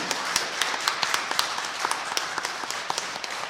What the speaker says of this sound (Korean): 박수 한번 다시 부탁드리겠습니다